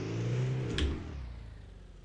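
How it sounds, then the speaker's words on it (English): Car engine in the video game Beware, a low steady hum with a brief swell partway through, fairly faint and with no talk. "I think it's just a part of the engine. The engine sound."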